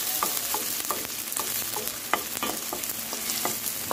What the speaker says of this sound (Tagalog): papula-pulahin lang natin siya ng konti. Para mas lumasa po yung ating bawang sibuyas.